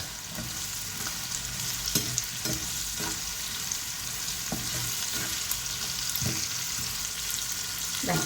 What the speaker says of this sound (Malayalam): വെളുത്തുള്ളി, ചുവന്നുള്ളി, ഇഞ്ചിയെല്ലാം നന്നായിട്ടൊന്ന് വഴന്നു വരണം.